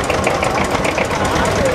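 A vintage Steyr 18 tractor engine runs at an oldtimer tractor meeting in Hafnerberg, a steady rapid chugging beat that holds loud and close throughout, with a voice talking over it.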